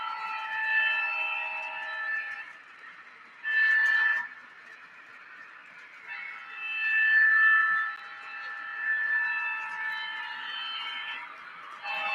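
A sound-equipped model train led by an Alco diesel locomotive gives off sustained tonal horn-like blasts, several long, steady notes broken by short gaps, fairly close and clear.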